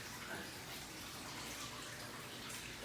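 Water pouring steadily into a 225 gallon reef aquarium, a continuous close gushing wash like a tub filling, with no pauses across the stretch.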